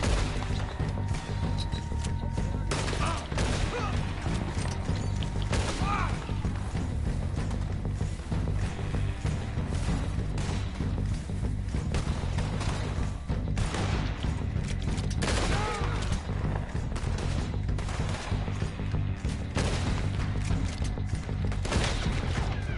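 Scattered gunshots in Red Dead Redemption 2, sharp cracks recurring irregularly over a low rumbling game soundtrack, fairly faint overall with a brief voice now and then.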